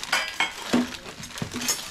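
Ladles and other steel kitchen utensils from a household utensil set clink together in a few short, bright, close taps, separated by brief pauses.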